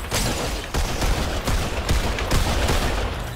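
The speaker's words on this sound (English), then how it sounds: "It's Jake who's shooting at you!" Rapid sustained video game gunfire, a loud volley of close shots in a steady rhythm of roughly two to three per second, dense and unbroken for the whole burst.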